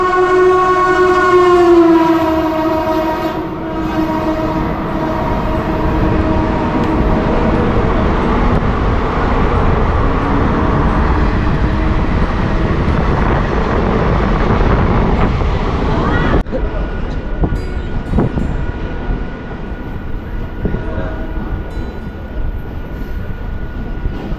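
A train travelling from Kolkata to Bardhaman sounds a horn in the opening seconds, then rumbles loudly and steadily on the rails, with a sudden shift in the rolling noise partway through.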